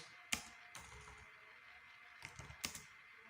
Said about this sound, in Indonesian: bisa kita ketikkan perintah docker image